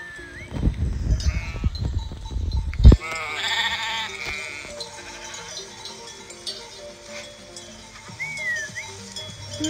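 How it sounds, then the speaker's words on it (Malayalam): Sheep bleat repeatedly on a farm in Kuwait near the Iraq border, with several wavering calls from different animals, some close and loud and others fainter, over quiet outdoor background noise. "ഈ കാണുന്നതാണ് ചെമ്മരിയാട്."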